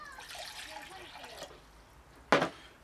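Cold water pours and splashes near the end, a brief bright burst after a quiet stretch with some faint background sounds, ahead of a Trangia stove test using a Firedragon fuel block.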